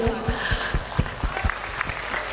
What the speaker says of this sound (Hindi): तो आप लोगों को भी मैं ताली मारती हूँ।